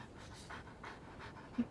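A dog pants in Genshin Impact, quick rhythmic breaths repeating steadily at low volume, ending with a short soft sound, with no talking.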